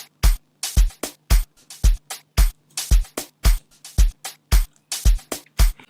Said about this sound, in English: They sound like this.